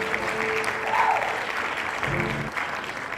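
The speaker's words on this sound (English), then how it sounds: "Can we get a live hand clap?" Live hand clapping from a small group at a Bushwick morning show, a steady wash of claps running throughout at moderate level, with voices murmuring faintly underneath.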